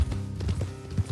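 Horse hooves clip-clop in Red Dead Redemption 2 as riders slow off the road, several quick muffled strikes at close range over a steady low game rumble.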